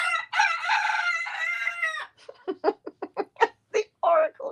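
A rooster crows one long harmonic call lasting about two seconds, then a rapid series of short clucks and squawks follows, loud and close, with no talk over it.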